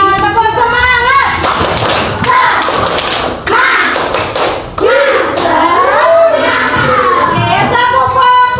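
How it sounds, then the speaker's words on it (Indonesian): A classroom of children performs a rhythmic spirit clap, tepuk semangat, with sharp bursts of hand claps mixed with loud group chanting voices. The claps come in uneven patterned runs throughout. "Sebelum mulai kegiatan mari kita tepuk semangat."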